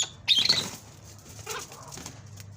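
Chakor partridges fighting during breeding, with a burst of loud wing flapping near the start followed by softer scuffling and rustling, close by with no talk.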